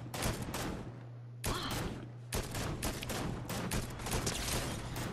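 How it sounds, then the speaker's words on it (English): Dense gunfire in the video game Fortnite Zero Build, a continuous barrage of rapid overlapping shots and bursts that stays loud for the whole stretch, with no talk over it. "I'm getting shot at though from a distance."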